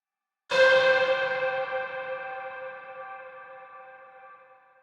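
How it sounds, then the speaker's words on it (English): A single struck bell-like tone with strong reverb preset processing, ringing out in a long, slowly fading tail of dense harmonics after one sharp onset, heard alone. "For each reverb preset, I will play it one time and you will see how it affects the audio"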